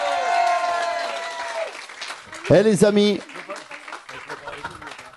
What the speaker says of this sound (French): Deux artistes qu'on applaudit bien fort dans le grand studio